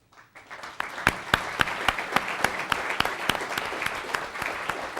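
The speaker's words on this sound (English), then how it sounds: "get a big round of applause" A small audience applauds an award winner, Kate Perry, and her parents at a ceremony, the clapping starting from quiet, quickly building into sharp, steady, closely spaced claps that continue throughout.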